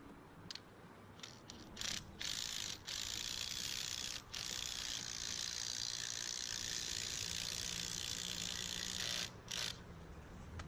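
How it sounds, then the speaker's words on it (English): Fasteners being tightened on an aluminum canopy bracket with a ratcheting tool, quiet bursts of rapid clicking that repeat in short runs with brief pauses between them. "Make sure the bracket is level before tightening all the fasteners."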